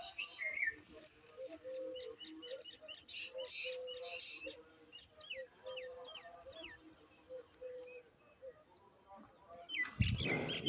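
Faint birds chirping and whistling in the background on a sunny morning, over a soft low murmur, ending with a sudden loud rustle.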